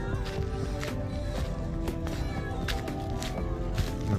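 A cat meows several times at Monte Maria Shrine in Batangas City, its short, fairly faint cries rising over light footsteps and outdoor background noise.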